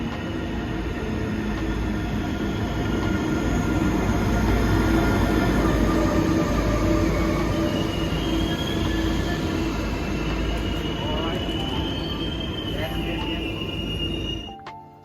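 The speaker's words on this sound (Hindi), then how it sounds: "So this is the train आ गई है।" A passenger train pulls into a European station platform, a loud steady rumble of wheels on rails with faint squeals throughout, cutting off abruptly at the end.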